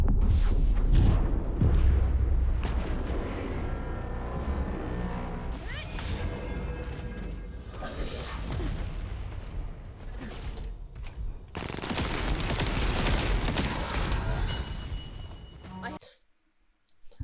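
Repeated firing of the Last Dagger weapon in the game The First Descendant, a dense run of gunshots with crashes and booms, loud and continuous for about sixteen seconds before cutting off abruptly.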